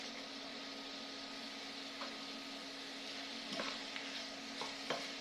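Onions are stirred in a pan, a quiet sizzle running underneath as a spoon scrapes and taps softly a few times, the knocks clustering near the end.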